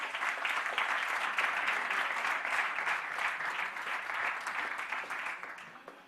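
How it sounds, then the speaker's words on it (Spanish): An audience claps in a sustained, dense round of applause that holds steady for several seconds before easing slightly at the end, with no voices standing out. "un aplauso para ellas"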